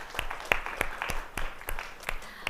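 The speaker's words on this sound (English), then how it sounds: "A round of applause for Sam before he signs off." Sparse, separate claps from a small online audience at a university research talk competition arrive as sharp individual hits in an uneven rhythm.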